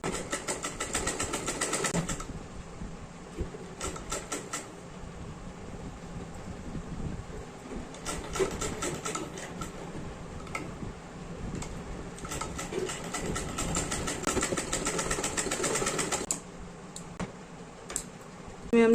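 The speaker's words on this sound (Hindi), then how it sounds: "किनारे से इसकी सिलाई लगा लेते हैं" Sewing machine stitching along the edge of a kurti, running in several bursts of steady rapid stitching separated by short pauses, with low background hum throughout.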